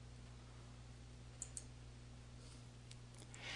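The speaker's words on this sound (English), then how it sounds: "then clicking on the desired format to use within the Format button group." Two faint, quick mouse clicks about a beat apart while formatting a message in the Outlook message window, set against a steady low electrical hum with no talking.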